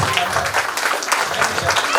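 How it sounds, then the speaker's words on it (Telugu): A school annual day and graduation audience claps steadily, a dense continuous patter of many hands that stays even and fairly loud throughout. "Please clap."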